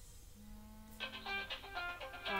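A phone rings during an online Rogue Company game, a faint electronic ringtone of short bright repeating tones entering partway through over a low background hum.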